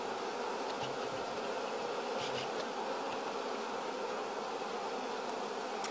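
A dense, steady hum of many bees buzzing around a beehive colony outdoors, continuous and fairly loud, with no voices.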